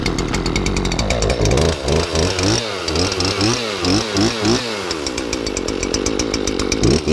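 A Craftsman chainsaw engine runs steadily and loud up close, revving up and down in repeated surges before settling back to a fast idle, with no talking.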